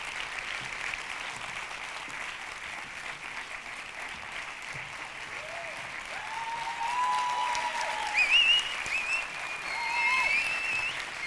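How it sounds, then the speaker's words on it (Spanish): Sustained applause from a sizable crowd at an awards gala, steady throughout and swelling louder toward the end, with a few faint voices and whistles over it. "Un fuerte aplauso para Claudia Siva y para Jacobo Castanera, por favor."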